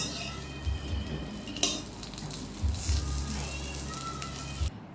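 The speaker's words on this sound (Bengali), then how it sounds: "বড়াগুলো আমার ভাজা হয়ে গেছে, এবার আমি বড়াগুলো নামিয়ে দেব।" Fritters fry in oil in a wok, giving a steady moderate sizzle. Occasional utensil clinks and scraping sound against the pan.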